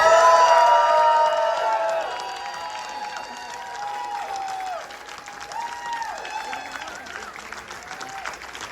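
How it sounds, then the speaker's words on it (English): A room full of people claps and cheers loudly at first, then the applause thins into scattered clapping while voices call out and chatter. "Okay, everyone, officially, round of applause"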